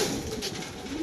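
A racing pigeon coos close by, a low soft throaty murmur running steadily through the whole second over faint background hiss.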